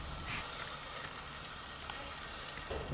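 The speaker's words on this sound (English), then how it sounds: "Just grab your can of WD-40 multi-use product from the shed and give it a really generous spray." A can of WD-40 Multi-Use Product sprays in one long, continuous hiss aimed at a bin, fairly faint and close, then cuts off with a small knock at the end.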